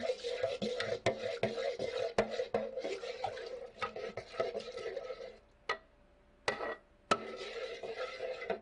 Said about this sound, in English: You stir all this together.